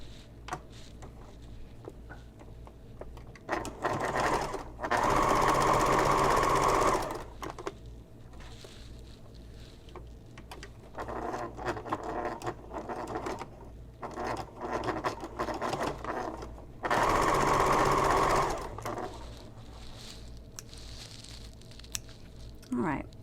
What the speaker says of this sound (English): first I'm going to top stitch